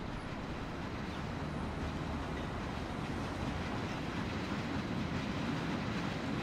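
A metro train rides along in Mafia: The City of Lost Heaven, giving a continuous, fairly quiet rolling rumble with a faint clatter and no voices.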